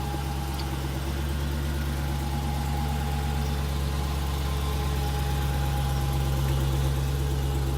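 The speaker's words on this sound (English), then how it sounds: "the sound of this vehicle sounds better than the Hellcat to me because it has a good rumble" A 2015 Dodge Challenger R/T Scat Pack engine runs with a steady, deep idling rumble that holds constant and fairly loud throughout, with no voices over it.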